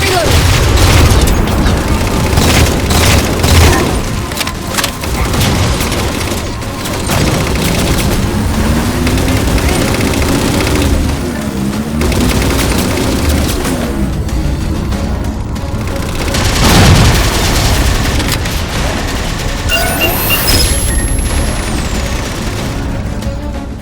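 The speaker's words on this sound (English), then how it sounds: "Target those phantoms for the railgun to shoot down." In Halo 4, a railgun fires at Phantom dropships, with heavy booms, explosions and rattling gunfire across a long battle, and in-game voices come and go over the din.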